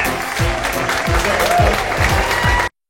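Loud, sustained audience applause at a comedy show, continuous clapping with a few low thumps underneath, cutting off abruptly near the end.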